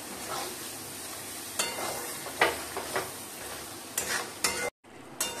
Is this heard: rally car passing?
no